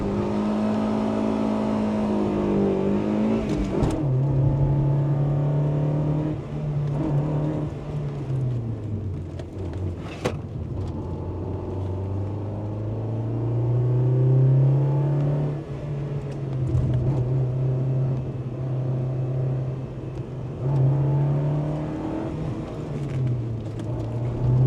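An MG ZR with a learner plate accelerates on a sprint hill climb run, its engine note rising and falling through gear changes as it revs, with brief sharp sounds along the way.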